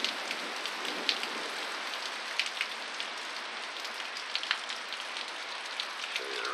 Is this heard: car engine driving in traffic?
no